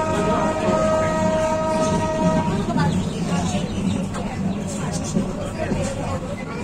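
The Mahanagar Provati Express on the Dhaka to Chattogram route, with locomotive 3025, rumbles steadily at a station while a sustained horn-like tone sounds for the first few seconds; platform crowd babble and someone talking run throughout.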